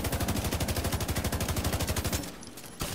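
Rapid automatic gunfire from The Division 2 rattles in a steady, loud stream of shots for about two seconds, then cuts off abruptly into quieter game ambience.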